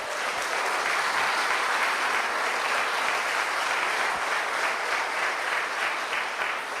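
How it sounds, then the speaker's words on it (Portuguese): A church congregation applauds during a worship service, a sustained, even wash of many hands clapping together that holds steady at full strength throughout with no talk over it. "Aplauda o Senhor"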